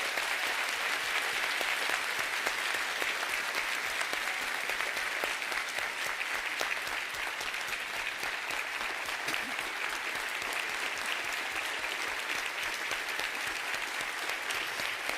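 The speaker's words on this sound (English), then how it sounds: "And so let's all give a warm round of applause to Constable Precinct 1 Deputy Sheila Jones." Warm, continuous audience applause at a Harris County State of the County address, thick even clapping for the full stretch, loud and unbroken, no voices on top.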